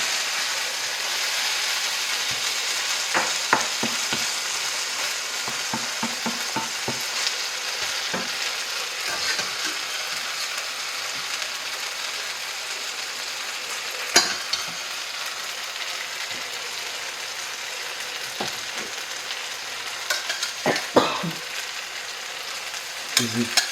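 Fresh rice noodles with bok choy and beech mushrooms stir-fried in a hot pan give a steady close sizzle, broken by scattered clicks and scrapes of the utensil stirring.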